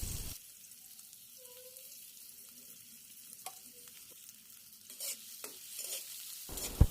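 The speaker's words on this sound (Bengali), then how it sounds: "একটি কড়াইয়ে পরিমাণ মতো তেল দিয়ে পেঁয়াজ ও কাঁচামরিচ কুচি দিয়ে দেব।" Chopped onion and green chilies fry in oil in a wok with a faint, low sizzle. Scattered spatula clinks and scrapes grow more frequent toward the end.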